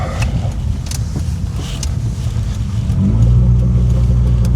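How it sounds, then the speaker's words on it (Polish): Close, steady low exhaust drone from a Honda Odyssey minivan on its original JDM exhaust, swelling slightly louder near the end with no one talking. "Fajnie słychać wydech. Ten wydech to jest"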